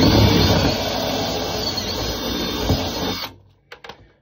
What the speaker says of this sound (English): just want to drill out that bottom hole